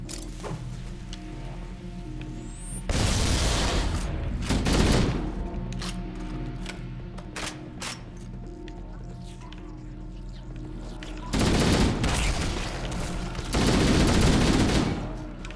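In Halo CE Anniversary, an Elite fires a shotgun in two loud, booming clusters of blasts separated by quieter in-game ambience and scattered clicks.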